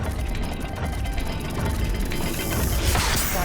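Stone dial mechanism turning inside a hidden study in the Hogwarts Legacy video game, giving a steady grinding, ratcheting clatter of gears that runs throughout and grows slightly louder and busier toward the end.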